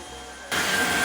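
Tineco S6 Stretch cordless floor cleaner switching into suction mode, its motor jumping midway to a louder steady whirring hum.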